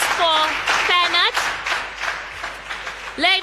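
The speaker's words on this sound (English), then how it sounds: "A round of applause for Fernand." Audience applause for a contestant on a TV talent show, brief clapping bursts heard under and between loud voices and cheers.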